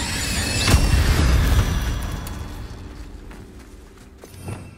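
An Incendio fire spell cast in the wizarding game Hogwarts Legacy: a sharp whooshing burst near the start swelling into a low roaring rumble that fades, with a faint pop near the end.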